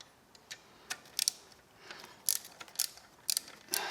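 A wrench or ratchet loosening a bolt on a Honda CBX750F motorcycle during restoration, a series of quick close metallic clicks and ratcheting ticks in irregular bursts, no talk.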